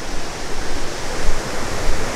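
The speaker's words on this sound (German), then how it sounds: "Uiuiui, Schwedens größter Wasserfall." Roar of Sweden's largest waterfall, heard on a cold day in a forest setting: a steady, dense broadband rush of falling water with a deep low rumble, loud and continuous throughout with no voices.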